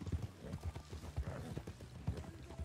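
Horses galloping in a video game, a rapid, close clip-clop of hooves pounding steadily with a faint whinny mixed in.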